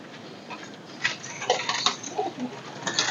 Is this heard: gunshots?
no